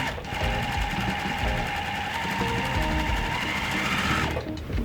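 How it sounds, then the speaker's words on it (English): Sewing machine stitching a quarter-inch quilt seam, a fast, steady mechanical whir and chatter running continuously for several seconds at close range, with no talk. "I'm gonna go 1/4 inch seam down it, and we'll have our first little set done."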